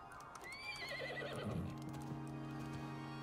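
Horse in the survival game Icarus whinnies with a wavering high neigh lasting about a second, followed by snorting and low hoof clatter against a steady game ambience.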